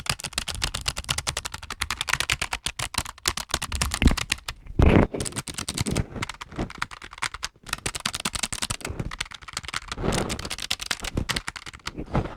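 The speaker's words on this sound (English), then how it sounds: "you can hear the sound of the keys" Rapid, steady clacking of Logitech G915 mechanical keyboard keys being typed on close up, with brief pauses and a few louder thumps along the way.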